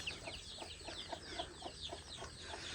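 Brooding hens cluck in a steady series of short, evenly spaced calls, close by and moderately soft, with no one talking.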